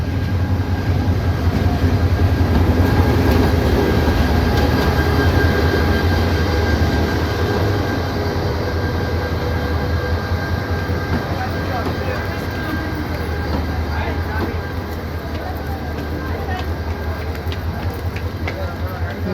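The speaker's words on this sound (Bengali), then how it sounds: "1 নম্বর প্ল্যাটফর্মে ঢুকছে কক্সবাজারগামী সৈকত এক্সপ্রেস।" The Cox's Bazar-bound Saikat Express, hauled by locomotive 2925, rolls into platform 1 at Solosohor railway station with a loud, sustained rumble and clatter that eases gradually, while people talk nearby.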